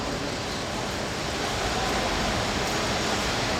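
Cyclists' training rollers at a track race give off a steady broadband whooshing hum, continuous and even, like a wash of white noise filling the background with no distinct events.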